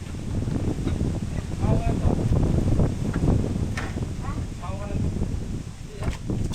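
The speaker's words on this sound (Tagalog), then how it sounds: "Lakas ng hangin sobra." Strong wind buffets the microphone in a steady, loud roar with gusty surges, while people talk over it throughout.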